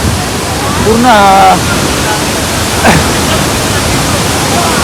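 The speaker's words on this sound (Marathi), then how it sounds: "फुल पाण्याचा पण प्रेशर आहे, फुल वॉटरफॉलचा फुल आवाज येते" Devkund waterfall in Maharashtra pours down between rock cliffs with a steady, full roar of rushing water, broken briefly by a short voice-like call partway through.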